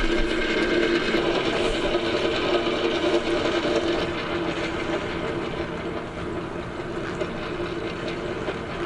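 A winch drum free-spools as synthetic rope is pulled off it, giving a continuous dense rattling, clicking whir that stays steady and fairly loud throughout, with no talking.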